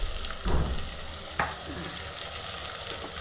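Onion, garlic and ginger paste fries in oil with a soft, steady sizzle, broken by a couple of brief louder spatters or stirring knocks.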